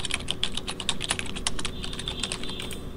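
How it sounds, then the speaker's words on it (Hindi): Computer keyboard typing sound effect: rapid, even keystrokes clattering continuously for a few seconds, close and crisp with no voices. "कंप्यूटर टाइपिंग वाला"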